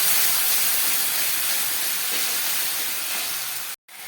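Ginger paste and cumin powder frying in a pan with a splash of spice water, giving a loud, steady hiss close by that cuts off sharply near the end, with no speech.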